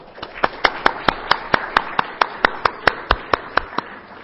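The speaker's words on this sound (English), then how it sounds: "Let's give him a round of applause." An audience at a network security talk claps in a quick, even rhythm, sharp distinct claps ringing out close and steady for several seconds.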